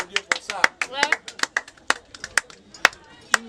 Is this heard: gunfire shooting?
no